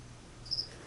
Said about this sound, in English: I just put a cricket in there.